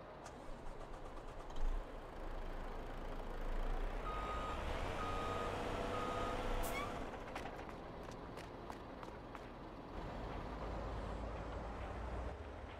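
A truck in Farming Simulator 22 reverses with a faint series of evenly spaced beeps over a steady engine rumble and background noise, and no talk is heard.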